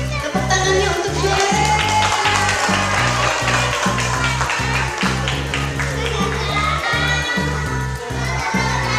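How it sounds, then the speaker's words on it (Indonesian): Crowd of children and adults applauds and cheers a young performer at a kindergarten sholawat singing contest for the Prophet's birthday; steady close clapping and shouting fill the room over loud rhythmic music throughout. "Tepuk tangannya untuk dia."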